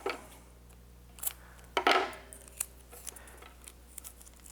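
Sharp shears cut through a rope line wrapped in rigging tape, giving a few light snips and one crisp, louder cut in a quiet room.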